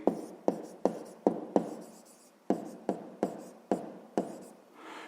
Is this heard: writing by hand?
yes